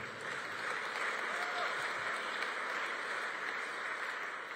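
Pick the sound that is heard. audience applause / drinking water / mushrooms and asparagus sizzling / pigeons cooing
audience applause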